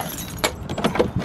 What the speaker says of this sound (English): Oh wait, I need to lock it, I put the key away.